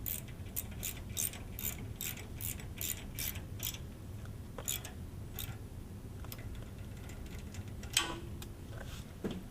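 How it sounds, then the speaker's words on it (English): A ratchet fastening an M12 bolt on a lifting device bracket gives a quick series of sharp, close clicks in short bursts, then a few scattered ticks and a louder knock near the end. No one speaks. "Make sure to securely fasten the bottom bracket in the correct position using the M12 bolt."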